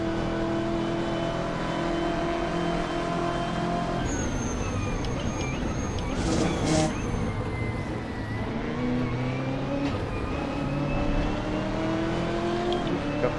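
A race car's engine in Assetto Corsa with the SOL sound mod at Road Atlanta drones and revs steadily, pitch rising and falling through gear changes as another car whooshes past midway, with no talk over it.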